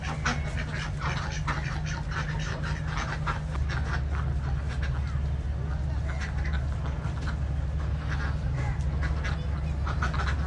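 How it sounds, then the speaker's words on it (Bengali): Ducks quack in a group nearby, a busy overlapping chorus of calls over a steady low hum, with no clear pauses. "আমি এই ভিডিওতে আপনাদেরকে হাঁসগুলো দেখাচ্ছি।"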